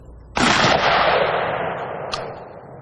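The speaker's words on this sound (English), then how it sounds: "Its payload consists of magnesium pellets which ignite when shot." A shotgun fires a Dragon's Breath round loaded with magnesium pellets, one loud close blast followed by a long roaring, crackling burn that fades slowly, with a brief sharp snap near the end.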